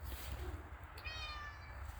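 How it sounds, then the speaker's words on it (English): A single close cat meow rising and falling partway through, over a low rumbling background hum, short and fairly clear. "That's one of the cats, Tom."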